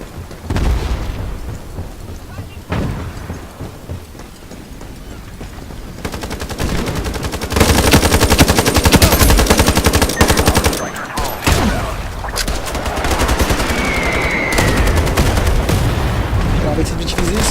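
Gunfire in the online shooter IronSight: bursts of automatic weapon fire and booming shots, loud and continuous with brief pauses, joined by a few explosions.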